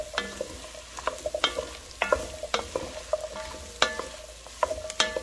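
Pumpkin being stirred into a pot of lentil and spinach soup, a spoon scraping and knocking against the pot in a steady run of sharp clicks over a soft simmering hiss.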